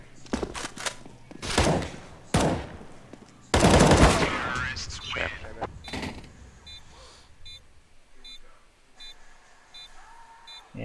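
Bursts of automatic rifle fire in a Counter-Strike match come as loud rapid volleys, sharpest around the middle, then die away to quieter in-game clicks and beeps.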